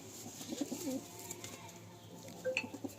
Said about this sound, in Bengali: এগুলো বাচ্চা পায়রা এগুলো